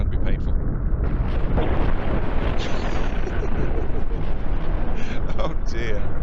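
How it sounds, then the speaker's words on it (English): Rumbling missile volley explosions pounding an enemy ship in the space combat game Cosmoteer, a dense continuous roar of blasts with a voice talking underneath. "My initial missile volley, about 2/3 of it hit, and that vaporized a sizable portion of his ship"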